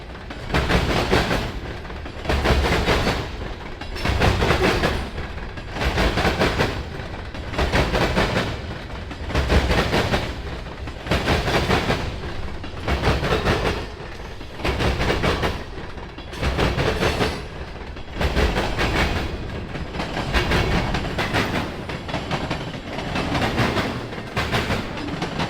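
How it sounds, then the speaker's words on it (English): Daily mixed freight train NS321 rolling southbound at Cordele, Georgia, loud and close, with a steady rhythmic clickety-clack of railcar wheels over rail joints repeating about every second and a half for the whole stretch. "NS321 is a daily mixed freight that comes through every day southbound"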